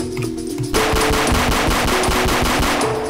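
Rapid automatic Glock gunfire in a Roblox hood shooting game, a dense burst of sharp repeated shots starting after a brief quieter lead-in and continuing steadily, loud and close.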